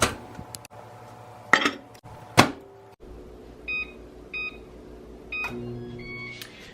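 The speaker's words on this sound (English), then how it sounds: "Now we'll microwave it." A microwave oven is set and started for a protein brownie cake: clinks of a dish and utensils, then a series of short keypad beeps followed by the low hum of the oven running.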